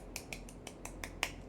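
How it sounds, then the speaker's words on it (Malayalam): Seven sharp, evenly spaced hand claps in quick succession, crisp and fairly close, each a short bright crack with the last one slightly louder, alone against a quiet background. "ക്ലാപ്പ് സൗണ്ട് കുറഞ്ഞു പോയാൽ കുറച്ചുകൂടെ സൗണ്ടിൽ ആക്കട്ടെ"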